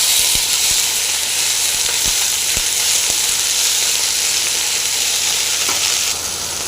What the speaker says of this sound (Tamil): நம்ம கருவேப்பிலை போட்டலாம் அதில் அதை போட்டு நல்லா ஃப்ரை பண்ணிக்கலாம்